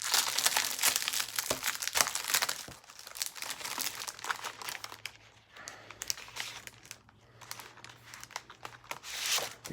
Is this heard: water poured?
no